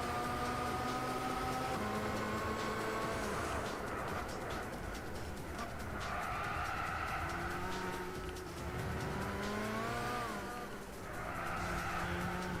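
In Gran Turismo 6 on the PS3, a Ferrari Enzo racing car's engine wails and shifts pitch as it revs through gears, accompanied by tire squeal, steady and fairly loud throughout.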